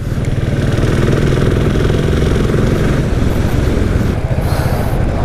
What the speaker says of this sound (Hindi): स्टार्ट हो चुकी है और चल रहे हैं अभी, और बाकी मेरे पीछे आ रहे हैं सौरभ और विजय।